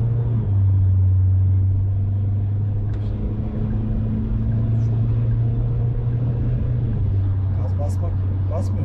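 Ford S-Max fitted with a hybrid turbo and a large intercooler cruising on the road, a steady low engine drone and road rumble filling the cabin, with people talking over it.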